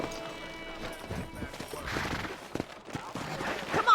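Horse hooves clip-clopping at speed in the video game Red Dead Redemption, a quick close run of hoofbeats with a horse whinny, some thuds and faint game ambience.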